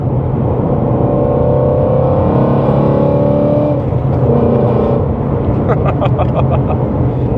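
A 2017 Ford Mustang GT350 engine roars and revs hard while driving, the pitch climbing and dropping, loud and close with a brief stutter near the top as it hits the rev limiter.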